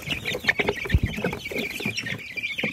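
Young chicks cluck and peep in a farm brooder bin, a steady close chorus of soft chirps with a few louder calls standing out.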